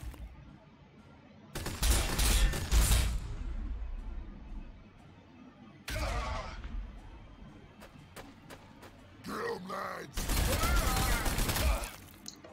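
Bursts of gunfire rake assault troops in the Warhammer 40,000: Sanctus Reach video game, dense crackling volleys in three or four loud waves separated by quieter gaps.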